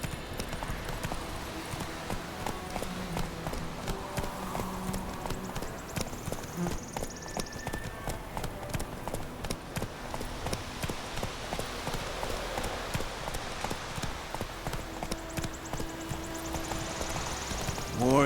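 Geralt's horse Roach gallops steadily in The Witcher 3, with continuous rhythmic hoofbeats under game ambience and voices talking throughout.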